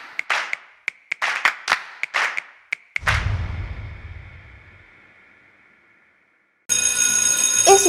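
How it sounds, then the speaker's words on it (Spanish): A school class bell sounds after a quick run of sharp clap-like knocks, ringing out once with a bright metallic tone that decays slowly into silence before a different bright sound cuts in. "Ese es el sonido de nuestra campana"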